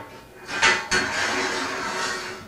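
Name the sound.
sliding door hanger fitted onto bolt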